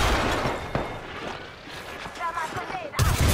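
Gunfire in Apex Legends sounds in loud, ragged bursts with booming impacts. A voice talks between the volleys, and a final burst hits hard near the end.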